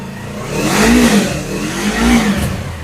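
A nearly new used motorcycle, only about 35 to 40 days old, revs loudly twice, its engine note rising and falling in two swelling surges close to the mic.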